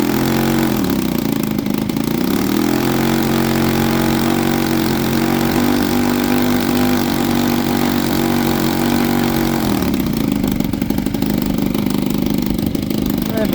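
A Lazer aircraft engine on its first run, steady and loud throughout as throttle is added, its tone rising into a higher sustained drone after about two seconds and dropping back near the ten-second mark.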